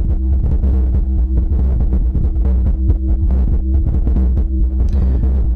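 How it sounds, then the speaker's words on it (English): A Teenage Engineering OP-1 synth plays a steady drum track pumped by sidechain compression, giving a loud, dense low-end throb that swells and ducks in a regular rhythm for several seconds. "this is what happens when you start playing that external drum track"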